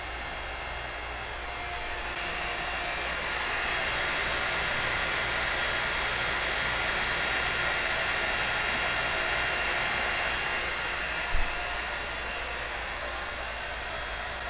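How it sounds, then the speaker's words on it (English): Vacuum pump evacuating the air-conditioning system of a Hyundai Sonata after compressor, condenser, accumulator and expansion valve replacement, a steady loud hissing whine droning evenly throughout with one brief knock near the end. "putting a vacuum on it."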